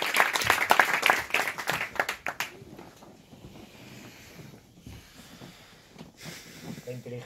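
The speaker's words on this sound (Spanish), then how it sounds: "es el momento de invitar al futuro a que se venga al presente y de darle un aplauso" An audience at a Google tech summit in New York breaks into brisk, fairly close applause for a couple of seconds before it fades into quieter room noise with faint voices.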